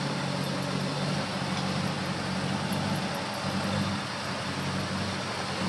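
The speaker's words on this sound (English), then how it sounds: "here's the motor running" A Beaumont car engine idling steadily with its electrical fan running, a constant close broadband rumble and whir with no revving and no talk.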